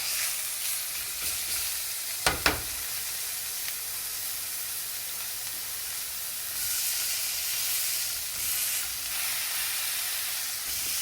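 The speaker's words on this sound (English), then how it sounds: "don't be afraid of all the noise from the pan, the spatter from the oil" Steady loud sizzling and crackling of a pork chop frying in hot oil, with a couple of sharp pops early on, continuous throughout.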